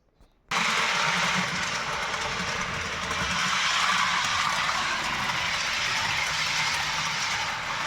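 A Piko Intercity Husarz model train from a starter set runs along its track, a steady close whirring rumble with faint rail clatter that starts abruptly after a moment of silence and continues evenly.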